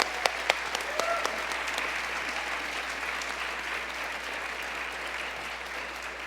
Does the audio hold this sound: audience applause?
yes